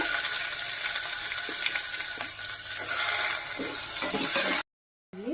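Green chilies and onions fry in hot oil with a dense, continuous sizzle and occasional stirring scrapes, loud and close, before a brief silence; no voices.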